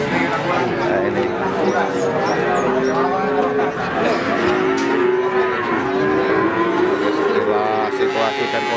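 Cattle and young calves low and moo again and again at a busy village cattle market in Pati, their long calls overlapping beneath steady crowd chatter and nearby talk.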